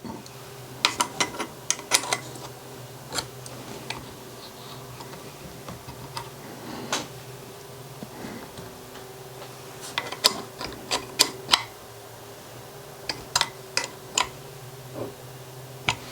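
An 11mm wrench snugging the bolts on a stepper motor assembly for a CGE telescope mount OnStep conversion gives scattered ratcheting clicks and small metallic ticks, some in quick clusters, over a faint steady hum.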